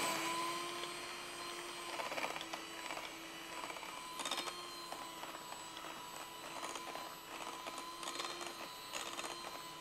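An electric hand mixer beats butter with icing sugar, a steady faint mechanical whine with a constant tone and brief louder rattling bursts as the beaters hit the bowl.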